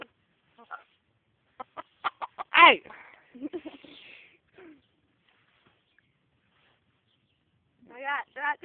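Chickens cluck in short, scattered bursts with one louder squawk, then a quieter group of calls near the end, at a bird-feeding spot with a person briefly calling out.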